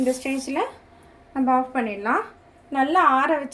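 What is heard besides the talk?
None of the usual background noises is heard.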